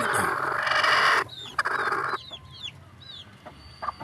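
Chickens cluck and chirp in short scattered calls near a nesting hen, with a louder burst of rustling and fowl noise at the start, then sparse clucks over quiet background.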